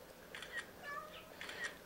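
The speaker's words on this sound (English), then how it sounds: "It's a little kitty cat." A small cat in a holiday cottage in France gives soft, faint meows, two or three short calls close by over quiet room noise.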